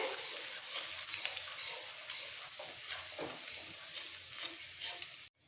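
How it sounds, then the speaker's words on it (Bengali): Finely chopped garlic frying in oil for a lentil dal, giving a dense, even hiss that holds steady close by, with faint stirring scrapes and no voices, cutting off abruptly near the end. "তেলের মধ্যে রসুনটাকে একটু ভেজে নিতে হবে"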